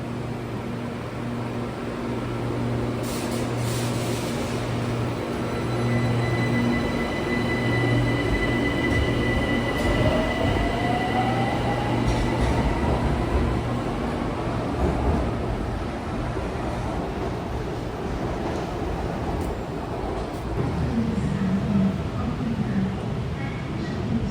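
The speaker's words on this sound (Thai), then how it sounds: "ท่านจะเห็นรถไฟสายสีเขียว BTS วิ่ง มาจากสถานี" An elevated four-car BTS Skytrain Green Line train in Bangkok runs past at close range from Mo Chit into Saphan Khwai station, a steady rumble with humming motor tones and a rising electric whine midway, continuous throughout.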